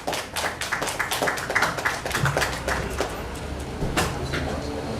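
Scattered applause from an audience at a media launch for a celebrity football match, a run of sharp claps of uneven rhythm, moderately close, fading and returning over a few seconds.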